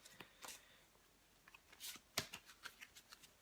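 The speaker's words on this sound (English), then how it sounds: "Give these a shuffle." Oversized playing cards being shuffled by hand, a few quiet riffles and soft slaps in short bursts, close but faint.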